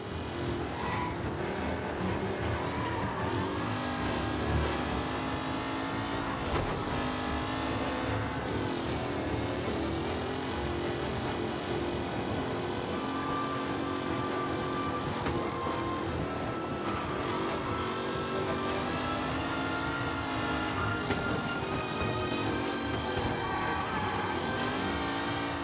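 Car engine in Mafia: Definitive Edition, a fast, responsive car driven across a dam, droning steadily and loudly throughout with revving shifts and game music layered over it.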